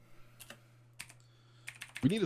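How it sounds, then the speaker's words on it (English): Keyboard typing during a podcast recording, a few scattered clicks in quick bursts, close and fairly faint, with a short voiced sound near the end. "you're gonna hear some clicks. I'm sorry, it's my keyboard"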